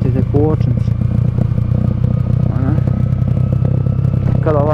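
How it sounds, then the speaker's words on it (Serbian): A motorcycle riding along a snowy road in January, its engine droning steadily and loud, with a rider's voice talking over it. "Kada ovako vozite motor, kada ovako idete."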